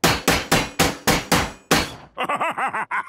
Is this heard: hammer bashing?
yes